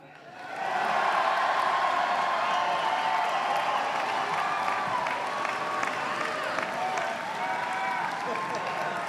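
Large commencement crowd breaking into applause and cheering after a brief quiet start, a sustained roar of clapping with voices mixed in that holds strong and even for about eight seconds.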